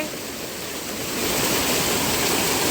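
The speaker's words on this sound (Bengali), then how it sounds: "আমরা জোনা ফলসে চলে এসেছি, আর এসেই এখানে টুবুল আর টুবুলের বাবা মিলে স্নান করতে নেমে গেছে" Jonha Falls waterfall with people bathing in it, a loud continuous roar of rushing water that swells slightly stronger partway through, with no voices.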